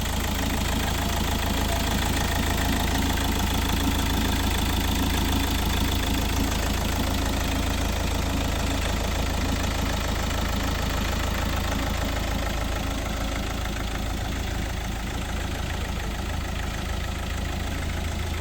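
The diesel engine of a 2016 Hyundai Verna Fluidic idles with a steady, close, even rhythmic beat and a continuous low hum for the whole stretch, with no voices.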